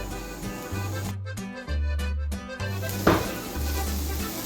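Washed and dried fenugreek leaves roast in ghee with a soft, steady sizzle, heard beneath a stepped instrumental melody with a brief louder crackle near the middle.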